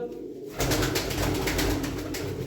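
Domestic pigeons coo in a loft, a steady, close chorus of soft rolling calls that starts after a brief quieter moment and carries on alone without talk.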